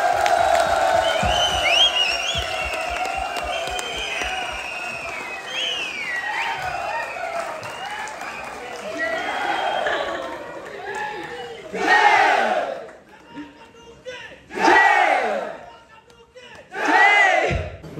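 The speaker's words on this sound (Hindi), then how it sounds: "आप सब प्लीज खड़े हो जाएं और बहुत जोरदार तालियां बजाएं।" A standing audience at a dinner party claps and cheers loudly; a long swell of shouts and whoops gives way to three separate bursts of roaring cheers toward the end.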